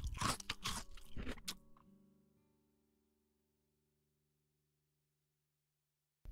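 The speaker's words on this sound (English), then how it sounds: "The big bad shark munched and crunched, but he could not smash the house in, and all his teeth fell out." Loud crunching and biting effect of a big shark chomping on a fish's house in a children's story: a rapid burst of crunches for under two seconds, then fading ringing tones and near silence.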